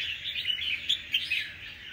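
A wild-caught lead red-whiskered bulbul from Cao Bằng chirps in quick, bright, moderately faint notes, a short lively burst with no talking.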